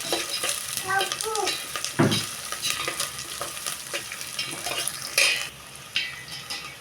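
Moong dal sizzles as it fries in oil with curry leaves in a pan, with steady crackling and a few scraping stirs of a spoon against the pan, close and continuous.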